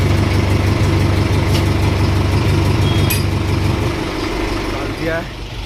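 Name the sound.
Mahindra tractor engine idling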